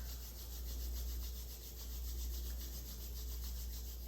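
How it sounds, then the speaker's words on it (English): Palms rubbing together during a meditation session, a soft steady swishing friction that swells and eases in slow rhythmic strokes, heard close and alone. "Let's rub the palms together"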